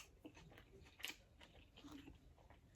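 Crunchy onions on a pizza being chewed, soft irregular crunching and biting bites close to the mouth, quiet and without talk.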